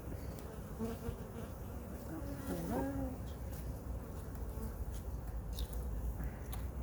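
Bees buzz steadily and close around a NUC hive box as they are installed, a dense insect drone holding throughout with a brief faint voice-like tone midway.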